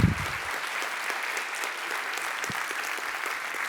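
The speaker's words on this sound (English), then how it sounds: "Let's have a big round of applause." Sustained audience applause at the close of an annual lecture at Clemson, a steady dense patter of many hands clapping at moderate distance, holding evenly throughout with no speech over it.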